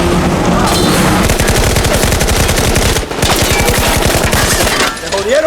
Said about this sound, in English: an intense firefight erupted between both sides